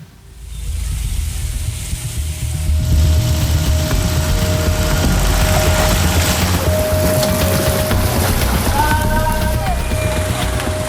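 Heavy rain falls steadily over a flooded street in Jagakarsa, South Jakarta, a dense continuous hiss with a low engine hum underneath, loud and unbroken for the whole stretch.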